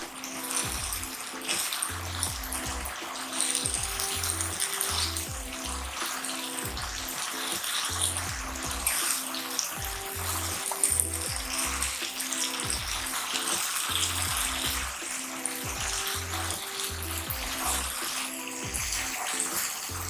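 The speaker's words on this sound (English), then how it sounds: "So I'm just going to start stirring gently." Egg sauce cooks in a pan while a spoon stirs it gently, giving a continuous hissing sizzle with soft, regular stirring knocks underneath.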